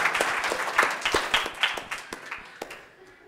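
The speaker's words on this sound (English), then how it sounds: "Well, let's applaud for them too." A small group in a classroom applauds, a short burst of clapping that starts strong and then fades into a few scattered claps.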